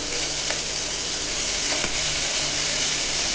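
Mutton sizzling steadily in a hot pan with tomato, a dense, even frying hiss with faint pops and a few light stirring clicks.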